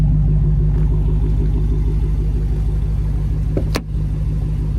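A 2023 Dodge Challenger Hellcat Redeye Jailbreak's supercharged engine idles close by, a loud, steady, deep throbbing rumble with a brief dip near the end.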